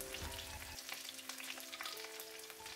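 Sliced onion fries in hot mustard oil with bay leaves, giving a faint, continuous crackling sizzle with a few light stirring touches.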